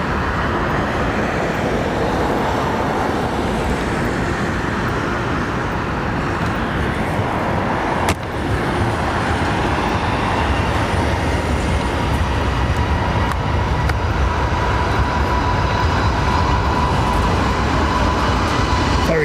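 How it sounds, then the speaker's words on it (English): Jet airliner taking off at London Heathrow Airport, a loud steady roar of engines and rushing noise filling the whole stretch with little change in level. "Very short takeoff run."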